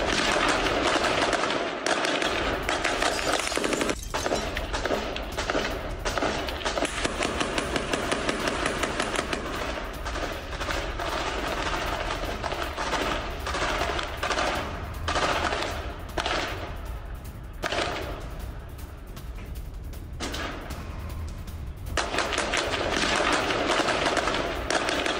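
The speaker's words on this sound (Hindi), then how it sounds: "ये जेनिन में क्रॉस फायरिंग चल रही है" Sustained crossfire in Jenin in the West Bank: dense, continuous automatic gunfire with rapid bursts and cracks overlapping for the whole stretch, loud and unbroken, with no voices.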